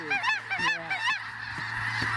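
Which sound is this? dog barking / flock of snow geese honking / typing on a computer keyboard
flock of snow geese honking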